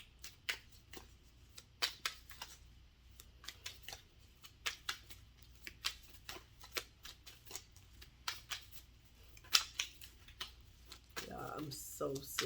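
Tarot cards are shuffled and drawn in a quiet room, giving soft, irregular riffles and papery taps with short pauses between them, close and faint, with a few brief louder flicks near the end.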